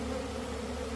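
Honeybees from a hive found inside a house hum in a dense, steady, close buzz with no pauses.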